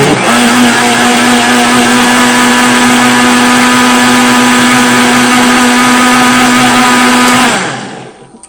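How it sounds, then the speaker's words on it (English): A blender whirs steadily while blending chopped cucumber for a homemade face mask, a loud continuous motor drone with a sustained hum that runs for about seven and a half seconds and then cuts off abruptly. "After you see that your chops of cucumber has chopped up, then you want to push blend"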